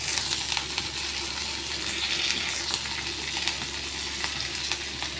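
Curry leaves frying in hot oil for a pepper rasam tempering, giving a steady close crackling sizzle with scattered sharp pops over a low hum.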